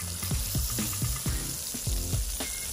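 A burger patty sizzles loudly on a hot griddle as it is smashed thin, with a steady frying hiss broken by repeated sharp scraping and pressing hits from a spatula.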